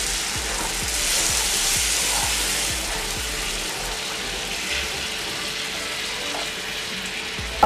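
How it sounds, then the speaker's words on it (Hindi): Milk with sugar poured into semolina roasting on a low flame, making a loud, continuous bubbling sizzle with slow stirring scrapes and clicks underneath, close by and with no voices. "फ्लेम को हम रखेंगे स्लो और धीरे धीरे हिलाते हुए दूध ऐड कर लेंगे।"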